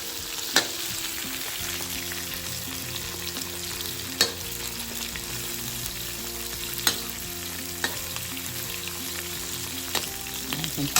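Prawns sizzle steadily in hot oil in a pan for a Malaysian soy sauce prawn dish, a loud continuous crackle broken by occasional sharp spatula taps as they are moved around.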